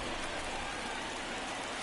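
Rain falling during a baseball game, a dense, even hiss of heavy rain filling the whole moment, loud and continuous with no voices.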